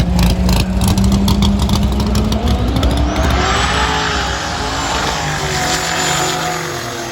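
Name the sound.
drag racing car making a pass at the track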